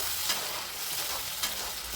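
Mint paste frying in a pan with a splash of water added, giving a steady, close hiss of sizzling with a couple of brief stirring scrapes.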